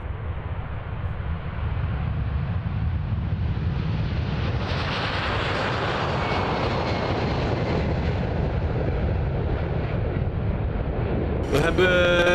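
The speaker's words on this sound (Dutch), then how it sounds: "Vanaf de luchtmachtbasis in Eindhoven vertrok vanochtend opnieuw een vliegtuig naar de Filipijnen." A military transport airplane loaded with relief supplies departs from Eindhoven air force base, its engines a loud, steady roar that swells as it passes and then holds, broadband and continuous throughout.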